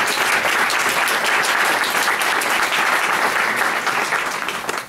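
Steady, dense audience applause at an Austrian School economics day event, welcoming a guest, sustained for several seconds and fading slightly at the end.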